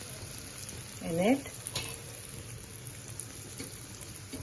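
An Irani samosa fries in hot oil over medium heat, a soft steady bubbling sizzle close by, with a brief spoken remark over it near the start.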